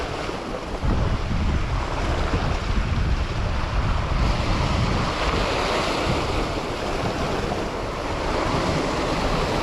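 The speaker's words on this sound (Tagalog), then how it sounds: "dito banda merong gulong ng alon" Ocean waves roll and crash continuously against a rocky shoreline, a loud, steady surf wash mixed with wind buffeting the microphone.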